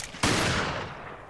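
One loud, close gunshot blasts in the video game Resident Evil Revelations, with a sharp crack that trails off into a booming decay over about a second.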